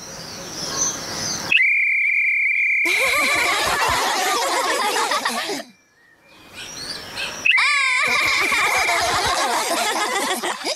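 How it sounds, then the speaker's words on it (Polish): A shepherd's whistle blows two long, steady shrill tones, loud and close, set among cartoon music and bright background sounds with no talking. "Kiedy użyję mojego pasterskiego gwizdka, musicie robić to,"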